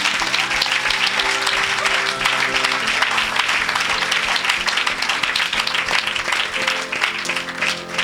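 A church crowd at an evangelistic gathering in Lille breaks into sustained, dense applause that stays loud and unbroken for the whole stretch, with a few voices calling out within it.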